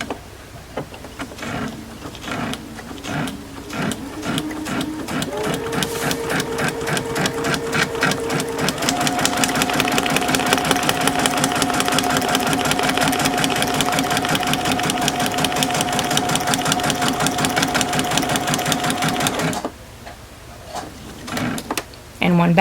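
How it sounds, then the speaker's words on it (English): A sewing machine running a long, fast, steady stitching burst that rises and holds, with a back stitch at the start, and a voice speaking over the opening moments. "I'm going to do 1 back stitch."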